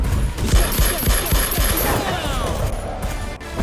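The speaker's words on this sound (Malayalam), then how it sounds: "അടിയില്ല വെടി മാത്രം" Rapid, loud bursts of film gunfire crackle in quick succession, a high whine ringing over them before the shots thin out toward the end.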